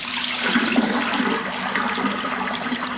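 Rinse water is poured off soaking rice in a home kitchen, a steady splashing gush of water that runs for a few seconds without talking.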